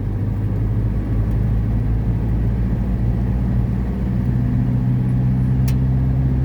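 A Kubota M tractor hauling a sugarcane trailer rumbles steadily along a road, its deep continuous engine drone loud and close without pause, no voices over it.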